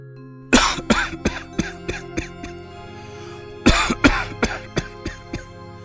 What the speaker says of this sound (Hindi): इस खांसी में मास्क पहन रखना बहुत मुश्किल हो रहा है।